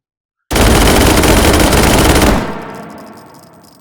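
Rapid full-magazine handgun fire in the VR shooting game H3VR, a dense, loud burst of shots lasting about two seconds, then a ringing echo tail that fades out.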